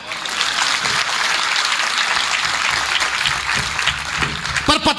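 A live audience at a Hindi comedy show breaks into loud, steady applause, dense clapping filling the whole stretch, with a voice starting to speak near the end.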